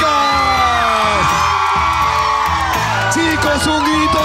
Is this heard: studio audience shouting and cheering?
yes